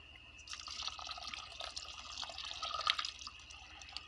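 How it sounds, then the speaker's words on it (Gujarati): Water poured from a kalash into a cooking vessel while making sana na mariya, a close, trickling splash with dripping, moderately quiet and steady with no talking. "એક કળશે પાણી નાખ્યું, હજી બીજો કળશી ભરીને પાણી નાખવાનું હોય."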